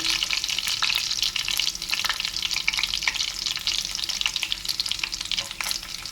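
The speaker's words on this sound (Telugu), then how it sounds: "ఇప్పుడు ఎల్లిపాయలు అనేది వేసేసుకుందాం" Onions sizzle steadily in hot oil in a pan, a close, even frying hiss with scraping stirs and small pops running throughout, no talking.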